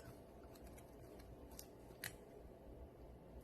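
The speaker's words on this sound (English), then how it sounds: "you use the scissors to cut the plastic" Scissors snip through the plastic stems of a wreath in a few quiet, sharp clicks, with one crisper cut standing out, set against a soft, low room hum.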